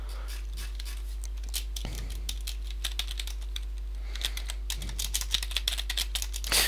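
Fast, close clicking of keys on a computer keyboard while chatting in World of Warcraft, in steady bursts with short pauses, alone over a low background hum.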